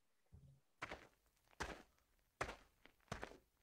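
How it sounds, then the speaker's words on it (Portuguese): Footsteps of a game character walking on sand and a dirt floor, four soft, dull thuds spaced roughly evenly, close and alone with no talk. "a gente tem o som dele pisando na areia ali, né, no chão de terra"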